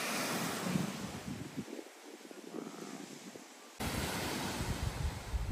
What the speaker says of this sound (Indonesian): ini ombaknya cukup tinggi ya